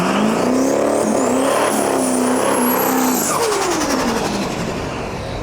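A Chevrolet Nova swapped with a Duramax diesel engine roars loudly up close, its revs climbing and dropping in a heavy, continuous drone with a high whistle riding over the top, then easing slightly near the end.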